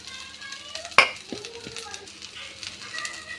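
Egg rice being stirred in a frying pan, a gentle sizzle under a sharp clack of the spoon against the pan and a few softer scraping stirs.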